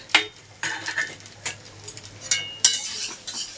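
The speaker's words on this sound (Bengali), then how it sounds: "তো এখন ওদেরকে ভাত ভাজা করে দিচ্ছি" Rice fried in a pan and stirred with a utensil: scattered scraping strokes and sharp clinks in an irregular rhythm over a faint sizzle, close by, with no voices.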